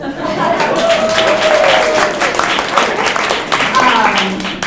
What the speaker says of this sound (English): So please clap for me, make me feel better.